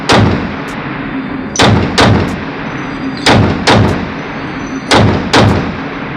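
A custom 10.5-inch AR pistol fired at an indoor range, loud sharp shots in close pairs and triplets with brief pauses between the bursts and echoing reverberation after each.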